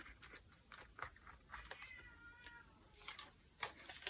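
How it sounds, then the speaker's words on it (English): A pet cat named Mr. Hemingway meows desperately from behind a closed door, a string of faint, repeated plaintive cries spread across a quiet room with no talk. "it was Mr. Hemingway, our cat, because I closed the door and he really wants to be with me"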